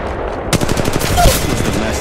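Rapid automatic gunfire from the mobile shooter game Apex Legends Mobile, a loud close burst of fast evenly spaced shots starting suddenly and running to the end, with a faint voice underneath.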